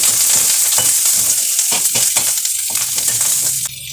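Tomatoes, shallots, garlic and curry leaves fry in sesame oil in a pan while being stirred, a loud close sizzle with steady scraping strokes and no voices.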